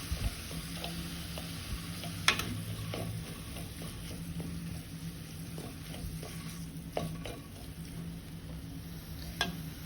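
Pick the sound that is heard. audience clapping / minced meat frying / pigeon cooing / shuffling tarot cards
minced meat frying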